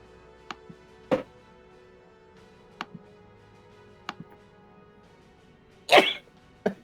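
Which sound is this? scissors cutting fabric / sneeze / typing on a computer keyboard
sneeze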